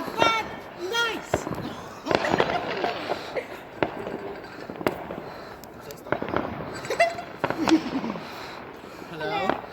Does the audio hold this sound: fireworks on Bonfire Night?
yes